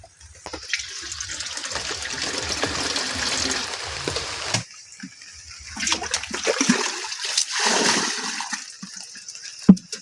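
Water mixed with seaweed fertilizer pours out in a loud rushing gush for organic banana farming, splashing steadily, pausing briefly, then gushing again before ending with a final splash.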